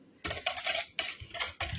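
Spoon clinking and scraping in a bowl while stirring a flour and sugar starter for a cheese Easter bread, in a series of close, bright bursts with short pauses between them.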